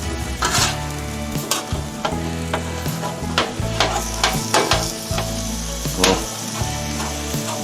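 Ground lamb popper meat browns on a hot griddle, sizzling loudly and steadily the whole time, with repeated sharp scraping and tapping of a spatula stirring it up close.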